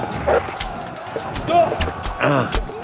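Dog barking in the medieval game Kingdom Come Deliverance during a combat encounter, several short barks and yips scattered over a busy game soundscape with someone talking over it.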